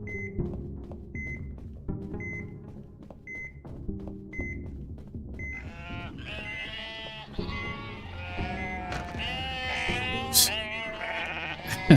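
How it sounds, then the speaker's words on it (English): Sheep bleating in Metal Gear Solid V, wavering harmonic cries rising over a steady low game hum, with repeated short electronic beeps earlier on. "The sheep are still here."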